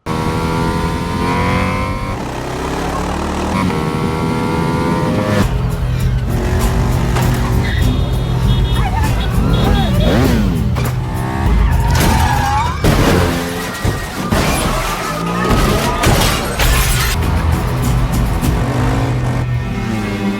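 Motorcycles roar through a chase between a woman and a group of henchmen, engines revving and surging continuously over loud, dense background music with tire noise and impacts.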